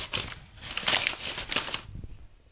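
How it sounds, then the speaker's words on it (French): Tissue paper is crumpled by hand to fluff out handmade paper flowers, giving close, crisp crinkling in bursts for about two seconds before falling quiet. "Voilà le geste pour ébouriffer. Vous allez en fait tout simplement froisser."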